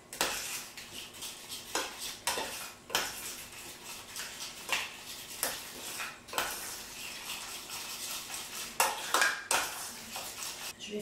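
Macaron batter mixed in a bowl, with a utensil scraping and knocking against the bowl in a series of irregular, fairly close strokes.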